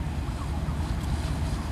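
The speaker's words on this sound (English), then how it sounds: "Not yet. I hear sirens." Distant fire department sirens wail faintly through a dense, rumbling background of traffic noise at a structure fire in Portsmouth, Virginia, never rising clearly above it.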